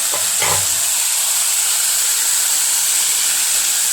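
Grated coconut and garlic dry-roasting in a pan for Kolhapuri chicken masala: a loud, steady hiss and sizzle throughout, with a brief low scrape of stirring near the start.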